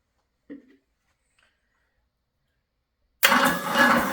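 A boat engine fitted into a Bronco, with a tight cylinder and a new starter, is silent for a few seconds after a faint click, then abruptly fires up and runs loud and rough near the microphone.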